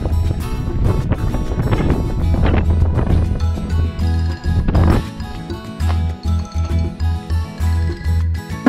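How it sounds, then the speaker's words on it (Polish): Strong wind buffets the microphone at the Mirador El Balcón viewpoint on Gran Canaria, with loud, gusty rumbling that pulses in uneven bursts and leaves brief lulls between blasts. "Tam bardzo wieje"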